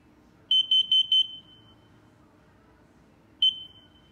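A combined smoke and carbon monoxide alarm sounds during a button test: a quick run of six sharp, loud beeps, then a pause and one more beep, over quiet room hum.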